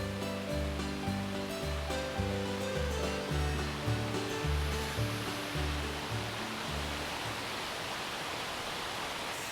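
Wide Laurel Falls in Carter County, Tennessee, pours in a steady, full rush of falling water heard from the top of the drop, with a pulsing low tonal drone over the first half that fades away.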